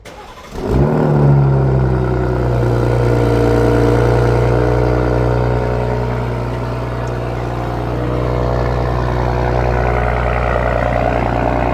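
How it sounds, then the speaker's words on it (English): A 2026 BMW M340i xDrive engine cranks on a remote cold start and fires up, revs briefly through the M Performance exhaust, then settles into a steady loud idle that holds for several seconds. "let's do a little remote engine start, cold start"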